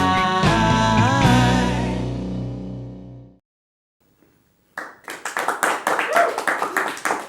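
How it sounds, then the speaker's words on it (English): A small audience claps after a sustained musical chord fades to near silence, a burst of scattered, uneven handclaps from a handful of people, close and fairly loud. "Thank you, all 5 people who are clapping."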